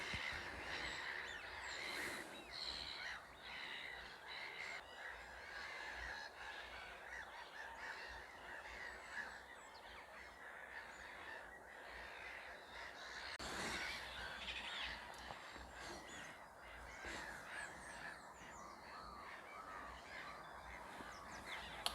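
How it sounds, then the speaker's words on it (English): Black-headed gulls and wigeon on a wetland in March. A steady din of harsh gull calls fills the scene, with occasional whistling duck calls and other birds mixed in at a moderate distance and no speech. "hopefully above the din of the black-headed gulls you can hear the occasional"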